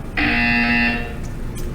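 A single harsh electronic buzzer in the video game Portal 2 blares for about a second at close range, then cuts off, leaving faint background noise.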